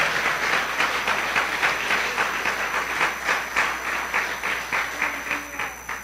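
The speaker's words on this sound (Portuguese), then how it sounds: "Uma salva de palmas ao Senhor." Congregation applauding in a church service, a sustained, even wash of clapping hands at moderate distance with no speech over it.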